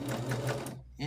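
Sewing machine stitching a long quilt seam, a rapid, even mechanical whir running for about a second before cutting off, close by, with a voice speaking over it.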